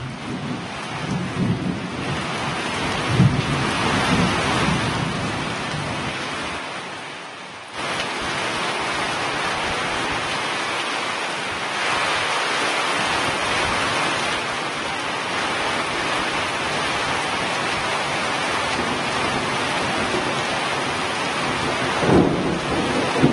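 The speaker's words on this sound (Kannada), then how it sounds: "ಆಲಿಕಲ್ಲು ಸಹಿತ ಭಾರೀ ಪ್ರಮಾಣದಲ್ಲಿ ಮಳೆಯಾಗಿದೆ" Heavy rain with hail pours steadily with a dense hiss in Karnataka, broken by deep rumbles of thunder; no voices.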